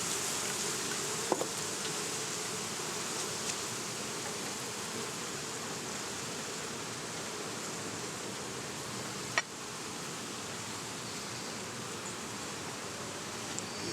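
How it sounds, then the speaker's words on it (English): Honey bees hum as a dense, steady drone around a beehive frame during a hive inspection, close and continuous, with a couple of faint clicks. "Quite a few bees in here, so we will send them back down to the bottom."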